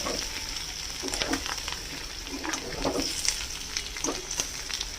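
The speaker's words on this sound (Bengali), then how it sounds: "সঙ্গে মিশিয়ে একটুখানি ভাজবো। কাঁচা লঙ্কা ভাজার একটা গন্ধ থাকবে।" Green chillies and potatoes fry in a pan with a steady, close crackle, broken by scraping stirs and bursts of sharper spitting.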